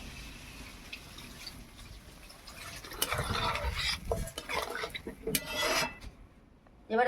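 Water pours into a pot of braised quail meat, a splashing gush that starts midway and swells loudly with some clinks of the pot before tapering off.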